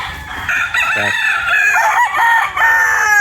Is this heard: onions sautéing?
no